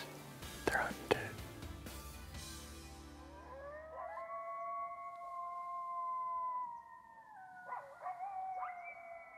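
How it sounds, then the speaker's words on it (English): Coyotes howl in the distance during an Iowa shotgun deer season evening, a chorus of long, rising, wavering wails that follows a few sharp thuds, heard faintly across open country. "Hear those coyotes in the distance?"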